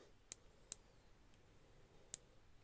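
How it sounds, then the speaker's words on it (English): Three crisp, faint clicks from the 90-click bezel of a Filippo Loreti Okeanos watch as it is turned, spaced unevenly in a quiet room. "I'll show you this bezel action. So it's a 90 click bezel"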